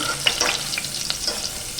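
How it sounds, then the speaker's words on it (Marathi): Garlic frying in hot tempering oil, a bright crackling sizzle with quick stirring clicks, close and steady over a short stretch. "लसूण ना छान अशी परतून घ्यायची आहे"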